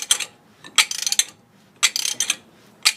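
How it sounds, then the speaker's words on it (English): A ratchet on a cheater bar cranks a bolt loose during a lowering block install on a GMC Canyon or Chevy Colorado truck, giving three loud bursts of rapid, close clicking with short pauses between. "For any application, just use here cheater bar."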